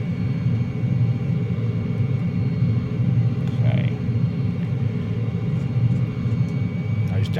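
A De Havilland DH.100 Vampire with a Goblin jet engine throttles up in Microsoft Flight Simulator, giving a steady, loud rumbling jet roar that holds constant throughout with a faint hiss on top.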